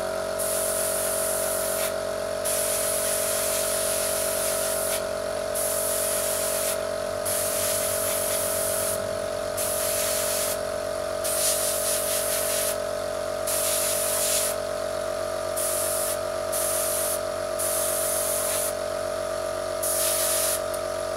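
An airbrush hisses as it sprays paint onto a wargame miniature: a steady, close, sharp hiss in repeated bursts with short gaps as the trigger is released and pressed again.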